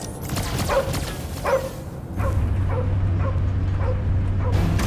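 Cosmo, a dog in the video game Guardians of the Galaxy, gives a series of short barks and whimpers at a steady pace over a dense background of rumbling noise and music, with no talk.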